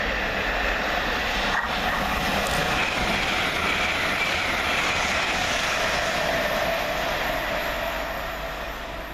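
Hull Trains class 802 train passing through Welham Green station on a London King's Cross to Hull service, a loud sustained roar with rumbling wheels and rail clatter that fades slightly at the end.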